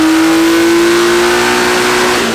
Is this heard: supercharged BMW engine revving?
yes